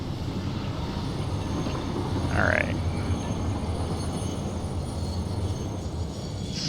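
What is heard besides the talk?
train running, from video game Satisfactory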